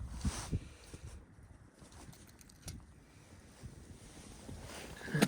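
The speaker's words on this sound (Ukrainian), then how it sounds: "Вітер просто капець" Gusty wind buffets an open microphone on a frozen lake while ice fishing for zander in deep winter, rumbling in uneven low bursts and swells with a sharper gust near the end, with no talk.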